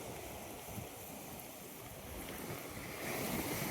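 Sea waves wash against the Malilipot seawall in Albay under strong northeast wind, a constant roaring rush of surf with wind buffeting the microphone that swells slightly toward the end.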